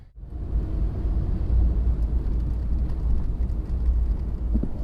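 A 1991 Cadillac DeVille on freshly replaced struts rolls down a residential block, its low engine and road rumble droning steadily and fairly close, with no voices.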